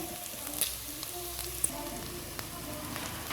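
Food sizzling steadily in a frying pan for virado de feijão, a soft continuous crackle with occasional small pops, close and moderately quiet with no talking.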